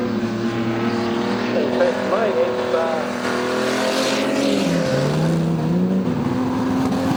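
Speedway race cars roar around a dirt oval, with several engines revving and whining at varying pitches, some passing close, under a commentator's voice.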